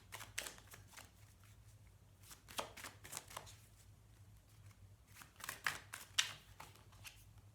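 Tarot cards shuffled close by, giving soft, quiet bursts of riffling and sliding in irregular handfuls with short pauses between them. No voices.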